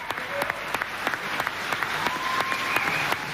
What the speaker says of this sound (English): Some were clapping hands, some were shouting, some were running to take pictures.